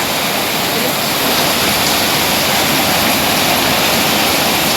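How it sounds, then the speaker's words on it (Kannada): Heavy monsoon rain pours in a dense, loud, unbroken roar, with rushing water filling the whole stretch and no pauses. "ಬರ್ಸ ಬಂಡ ಬರ್ಸ ಫುಲ್ ದಾದ ಬೊಲ್ಲಾನ"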